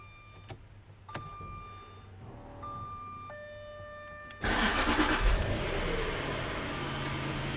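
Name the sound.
Jaguar S-Type car engine starting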